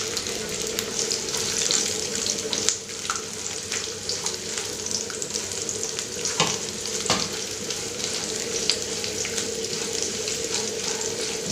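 Sliced onion sizzles steadily in a hot pan while a horse gram sprout sambar is cooked, a close, continuous frying crackle with occasional stirring scrapes and no talking.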